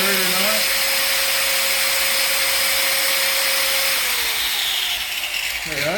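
A Bosch 1375A 4-1/2 inch small angle grinder runs close and loud with a steady high whine and rushing hiss, then its pitch drops as it spins down near the end.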